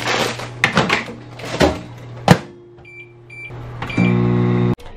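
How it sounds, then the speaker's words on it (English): A kitchen microwave oven is shut and started to heat a bag of broccoli: clunks of the door and button presses, then a steady humming run that stops abruptly. "So I'm going to attempt that now in my microwave."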